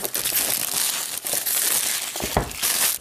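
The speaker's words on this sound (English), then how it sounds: "Peel the plastic here." Plastic wrap peeled and crinkled off a white and silver iPad mini box, a close, continuous crackling with a couple of sharper tearing bursts near the end.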